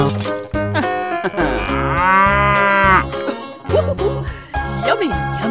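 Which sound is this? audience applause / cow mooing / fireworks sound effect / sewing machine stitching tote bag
cow mooing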